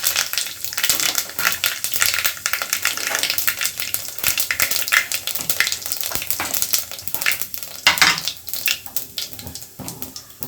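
Mustard seeds and cumin sizzle and crackle in hot oil, a loud, dense, continuous frying hiss with scattered sharper pops and no talking.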